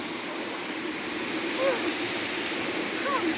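A waterfall in Hanover, Jamaica pours in a steady, full roar of rushing water that fills the whole scene, with faint bird chirps briefly rising above the noise.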